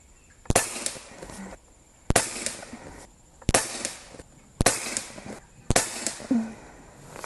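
An Umarex Gauntlet 2 .25 caliber PCP airgun firing H&N 28 grain slugs, five sharp, loud cracks spaced about a second apart, each followed by a short mechanical rattle.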